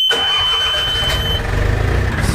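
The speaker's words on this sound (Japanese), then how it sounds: "はい、じゃあエンジンをかけて" A boat's outboard engine cranks and catches at the start of a fishing trip for Japanese whiting, then settles into a steady, loud, close idle with a low rumble.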